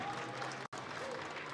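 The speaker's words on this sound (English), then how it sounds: "Big round of applause, ladies and gentlemen." Crowd applause fills a convention hall during a live sci-fi hour at a comic con in Birmingham, a fairly faint, continuous wash of clapping with a brief dropout in the middle.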